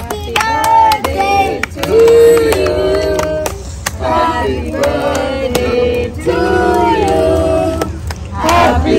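A group at a birthday party at a holiday house in Leicester sings Happy Birthday together, with repeated loud sustained chorus phrases, clapping and crowd noise, rising to a cheer at the end.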